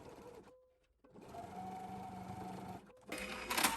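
A sewing machine sews quilt binding on a quilted box bag, running in a long, steady, close whirring stretch after a short start and a pause, followed by a brief louder clatter.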